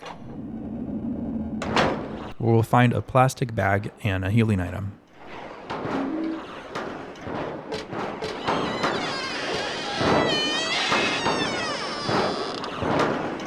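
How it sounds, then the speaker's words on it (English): Squeaky door in Silent Hill 3 at Brookhaven Hospital, heard as a loud near creaking and thumping of the door moving, followed by scraping and rattling sounds while someone narrates over it. "That's one squeaky door."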